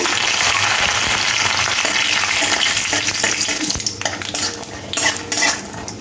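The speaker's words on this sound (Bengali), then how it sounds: "তেলের উপর বাদামটা দিয়ে লাল করে একটু ভেজে নেব।" Peanuts frying in oil for a radish-greens dish, a strong, steady sizzle with metallic stirring scrapes and utensil clinks against the pan, growing choppier toward the end, with no speech.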